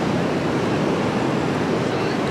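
Ocean waves at Ocean Beach, San Francisco, a constant broad wash of surf and wind noise, loud and steady with no breaks, no voices over it.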